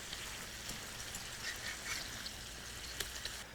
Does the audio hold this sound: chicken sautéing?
yes